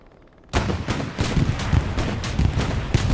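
Rapid gunfire aimed at a Puma armoured car in a multiplayer tank video game match, bursting in loudly after a short quiet start and continuing as a dense, repeated string of sharp shots and impacts.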